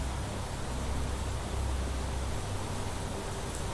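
Rainfall in the planet-terraforming game The Planet Crafter pours down as a constant, loud hiss with a rumbling low end, unbroken and with no talk.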